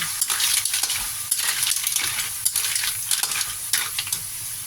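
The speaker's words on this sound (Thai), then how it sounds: "จากนั้นเราก็ใส่หอยลงไปเลย" Mussels are stir-fried in a pan, with a close sizzle broken by repeated scraping and clattering stirs in an uneven rhythm, and no voices.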